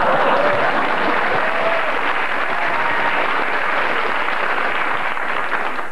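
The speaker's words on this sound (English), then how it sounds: "And you applaud that, do you?" A television studio audience keeps up steady, dense applause for several seconds, loud and even throughout, with no talk over it.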